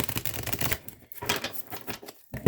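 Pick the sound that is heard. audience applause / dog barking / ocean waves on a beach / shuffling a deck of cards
shuffling a deck of cards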